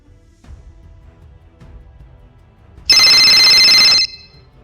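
A telephone rings once, a loud bright electronic trill lasting about a second after quiet room noise.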